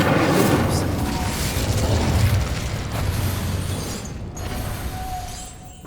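Incendio fire spell cast in the video game Hogwarts Legacy, a loud, sustained roaring blast of flame that fills about six seconds and slowly eases off toward the end.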